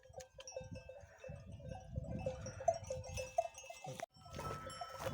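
Sheep bleat repeatedly close by on a mountain pasture, with overlapping calls from a flock and a faint clink of a bell.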